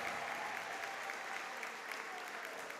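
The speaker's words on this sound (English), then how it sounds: "I want you to give them a round of applause." A large crowd gives parents and teachers a round of applause at Collinwood High School's 2025 graduation, a broad, even roar of clapping that stays at steady volume from a distance, with no voices rising above it.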